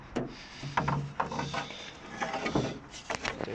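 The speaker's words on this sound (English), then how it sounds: "I'll just take the bonnet down so you can see it." The bonnet of a VW Caddy is lowered by hand, producing a series of close, irregular metallic clunks, creaks and rubbing knocks spread across a few seconds, with no talking.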